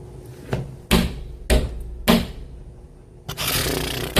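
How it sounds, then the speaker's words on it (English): Hard, close knocks on a door land in an uneven run of single heavy thuds, followed by a longer rattling burst of pounding, with no voices. "You keep on knocking, but you can't come in."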